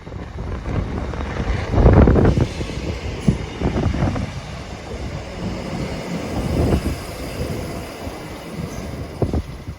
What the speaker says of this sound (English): Arriving now is the 1018 Scotrail service from Larkhall to Dalmuir.